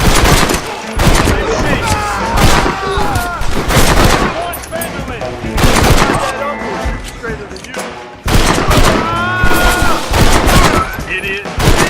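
Rapid gunfire from a Red Dead Redemption shootout, with repeated loud shots and volleys crackling throughout, mixed with shouting voices and game music.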